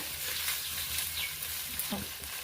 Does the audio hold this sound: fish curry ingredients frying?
yes